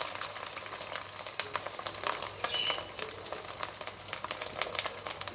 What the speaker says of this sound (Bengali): বড়াটাকে আমি এখন একে একে ভেজে নেব